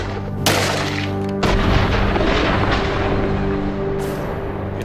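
A large revolver fires a single loud shot during a bullet speed test at 12.5 m, a sharp blast followed by a few seconds of heavy rumbling, with a second hard impact about a second later.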